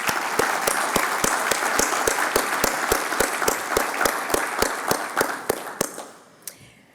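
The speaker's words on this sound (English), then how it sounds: "Let's give them a round of applause." Applause at the Minnesota Broadcasters Hall of Fame induction ceremony, with a strong, evenly paced clap standing out in a regular beat over the crowd's clapping, which gradually dwindles to a few final claps near the end.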